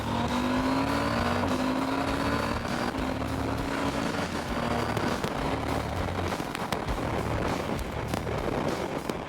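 A 2023 KTM 890 Adventure motorcycle accelerates as its engine pitch climbs steadily, ridden from onboard with heavy, constant wind rush over the exhaust note.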